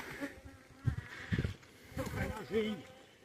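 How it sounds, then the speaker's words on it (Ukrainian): A bee buzzes close by in wavering bursts while people talk softly nearby, during wild honey gathering in Polesia. "Бджола пристала до мене, вже хоче кусатися."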